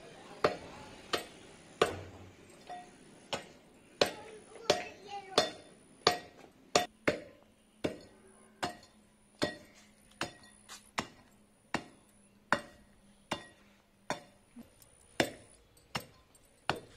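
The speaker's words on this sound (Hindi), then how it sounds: "उसके बाद कूट रही हूँ मैं नमक, जो लाहौरी नमक है।" Lahori rock salt pounded by hand in a village kitchen, a regular series of sharp, hard knocks about one per second, close and distinct, with faint clinks between strikes.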